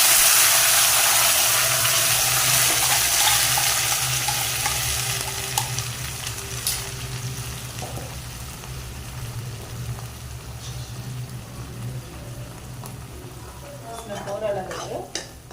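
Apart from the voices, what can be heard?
onion tomato masala sautéing in oil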